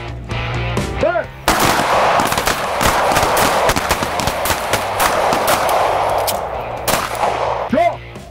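Sharp gunshots crack out in a close retention shooting drill, a dense run of repeated reports through the middle of the clip, with brief spoken commands near the start and end.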